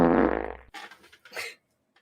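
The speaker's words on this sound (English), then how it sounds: "You want to hear me fart?" A long, loud, buzzing fart plays first, then trails into softer scattered rustles and brief noises before going quiet.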